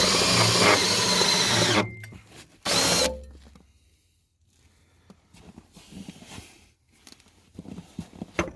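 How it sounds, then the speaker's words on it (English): A power drill whirs loudly for a couple of seconds drilling through a metal plate, stops, then gives a short second burst before fading into quiet shuffling and clattering. "maybe I should just drill through that"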